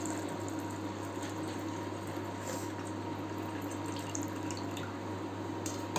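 Hot water drains off soaked paneer, a steady trickling and dripping over a constant low hum. It runs close and even throughout, with no voices.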